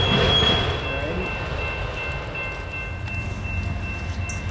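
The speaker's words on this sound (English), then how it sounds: "Here comes the next train" A freight train rolls past on a busy railway junction, a loud, close rumble of cars on the rails with faint wheel squeal, steady and continuous throughout.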